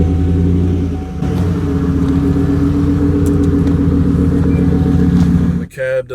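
Engine of a lifted Chevrolet Silverado with weight deletes, a loud steady rumble heard up close that runs evenly before an abrupt change near the end.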